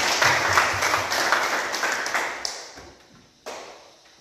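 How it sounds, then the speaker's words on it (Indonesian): Applause from students in a classroom rattles along for a couple of seconds, thins out and fades, then a single last clap lands after a short pause. "kita beri tepuk tangan"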